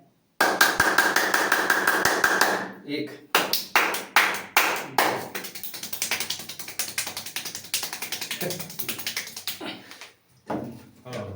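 Hands clapping in several styles make sharp, close claps: a rapid run, then separate bursts with different rhythms and brief pauses between them. One spoken word is heard.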